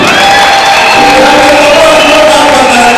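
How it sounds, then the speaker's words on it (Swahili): Loud crowd at a Kisii church prize-giving for well-performing pupils cheers, whoops and shouts in praise of a parent, a dense continuous roar across the whole stretch with voices calling out over it. "Pigia yeye makofi"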